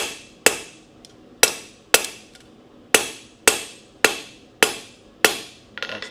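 A blacksmith hammer taps down hot metal with about eight sharp, ringing blows, spaced roughly half a second to a second apart, each one loud and decaying quickly.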